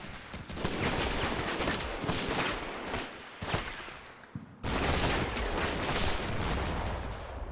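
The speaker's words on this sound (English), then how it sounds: "they are just shooting at the center mass of the building" Sustained gunfire rakes a building in the war game Combat Mission Shock Force 2, dense overlapping rifle and machine-gun bursts that stay loud and continuous, with a brief lull before the fire resumes.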